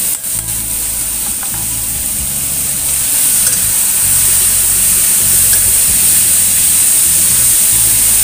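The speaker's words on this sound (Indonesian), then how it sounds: "Tumis perlahan dan kecilkan apinya terlebih dahulu ya" Bitter melon stir-frying in a hot pan, a loud, continuous sizzle with steady crackling and occasional stirring scrapes, no voices.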